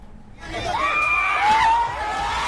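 An angry crowd in Palghar, Maharashtra shouts abuse, many raised voices overlapping in a loud, continuous din with one voice rising into a long yell.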